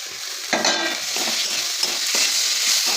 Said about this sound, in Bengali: এখন আমরা ভাজা আলুগুলো মশলার মধ্যে দিয়ে ভালো মতন কষিয়ে নেব।